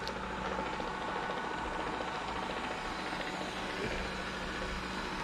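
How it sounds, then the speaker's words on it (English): A small household robot vacuum cleaner runs steadily indoors, a continuous whirring motor hum with broadband brushing noise, fairly close and alone without talk. "That noise you hear is my vacuum cleaner."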